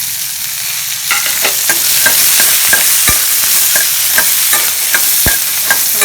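Garlic cloves and curry leaves sautéing in a pan, with a loud, continuous close sizzle and regular spatula scrapes and taps across the pan, no voices.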